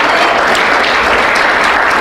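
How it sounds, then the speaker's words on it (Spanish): Church congregation giving a loud, dense burst of applause during a Spanish-language sermon, continuous and close with no pauses. "Démosle un fuerte aplauso al Señor Jesucristo."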